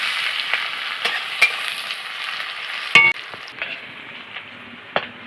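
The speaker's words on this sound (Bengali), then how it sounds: "পেঁয়াজটা আমি ভালো করে ভেজে নেব।" Chopped onions with halved green chillies fry in oil in a pan, a constant close sizzle punctuated by a few sharp clinks and scrapes of stirring, louder for a moment midway; no one speaks.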